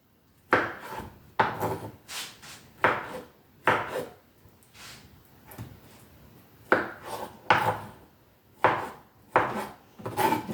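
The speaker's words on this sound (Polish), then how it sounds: "Następnie mamy kiwi, którego też musimy pokroić." Kiwi being sliced with a knife on a cutting board while preparing a fruit shake, heard as a series of sharp, distinct chopping thuds in irregular bursts, close and fairly loud, with no talking.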